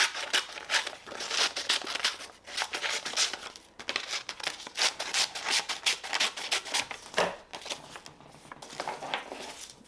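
Scissors cut through a paper picture for a vision board, giving a close, steady series of crisp snips and rustling paper crinkles over ten seconds, without talk.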